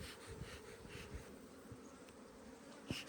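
Honey bees buzz steadily around an open hive as it is being reassembled, a close, continuous drone with a few brief knocks of hive parts and a sharper sound near the end.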